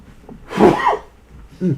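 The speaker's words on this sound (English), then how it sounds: "I'm about to sneeze" A single sharp sneeze bursts out close by after a quick inhale, followed by a short throaty breath or murmur.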